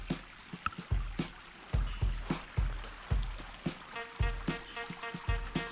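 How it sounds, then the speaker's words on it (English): A small bush creek flowing past old myrtle trees, a steady soft trickle and babble with repeated low thumps and knocks, close and moderately quiet, with no talk. "It's a lovely little creek."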